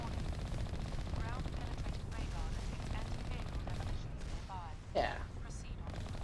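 In Mass Effect, the Mako vehicle fires on turrets, rapid bursts of gunfire with a heavier boom near the end, while a voice speaks briefly over the combat.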